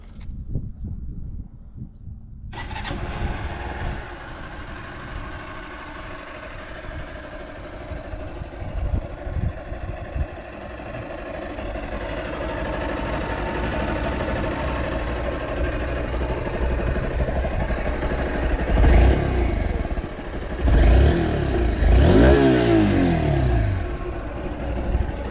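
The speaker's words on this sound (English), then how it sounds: "Let me hear you the exhaust note." A Honda Unicorn 160cc motorcycle starts up and idles with a steady low exhaust burble, then blips the throttle in several rising revs toward the end, recorded close and outdoors.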